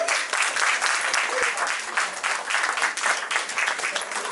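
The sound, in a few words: audience applauding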